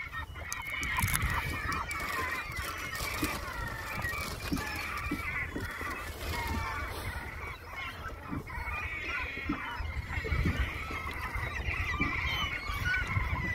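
A flock of geese honking near a boat, with a continuous, overlapping chorus of nasal calls lasting throughout at moderate distance.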